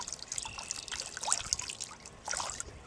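Old acid trickles and splashes out of a lead-acid battery being tipped and poured, giving irregular close dribbling and dripping with small bursts of liquid noise, no talking.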